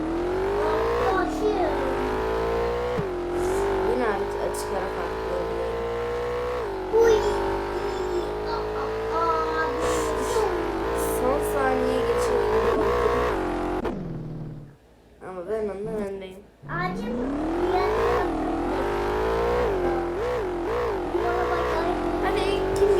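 Racing car engine in a video game, held at a high continuous rev with shifting pitch, briefly dropping out twice before surging back, while a person talks excitedly over it.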